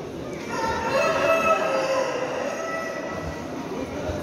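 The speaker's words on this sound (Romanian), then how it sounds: "În partea cealaltă sunt găinile, cocoșii." Chickens and roosters calling at a small-animal breed show in Făgăraș, a rooster's drawn-out crow rising over a busy hall murmur and steady background noise.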